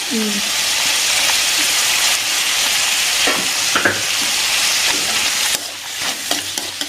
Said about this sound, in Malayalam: ഇനി നമ്മൾ ഇതിലേക്കില്ലേ അരിഞ്ഞു വെച്ചിരിക്കുന്ന 2 ടൊമാറ്റോയും ബാലൻസ് ഒരു സ്വല്പം വേപ്പില ഇരുന്നില്ലേ, ആ വേപ്പില അങ്ങനെ ഇട്ട് ഇളക്കുക കേട്ടോ.